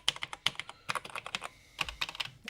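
Keys clatter on an NEC PC-8201 computer keyboard in quick, irregular bursts of close, crisp clicks with short pauses between groups.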